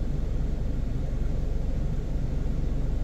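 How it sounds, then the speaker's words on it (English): The ocean roars after Hurricane Beryl in Barbados as high waves push water onto a beachside car park, a steady low rumbling wash heard without talk. "you can hear the ocean roar."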